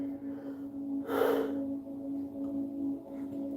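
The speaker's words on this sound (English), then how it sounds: "I'm sorry I'm yawning." A person yawning once, a single breathy gasp-like exhale lasting about half a second over a steady low electrical hum.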